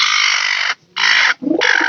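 A hen clucks loudly and close by while laying an egg, in three harsh, sustained bursts separated by short pauses.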